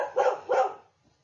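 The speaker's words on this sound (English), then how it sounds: "so that's my dog, Susie." A dog gives two loud, close barks in quick succession, each with a short ringing tail, then falls quiet.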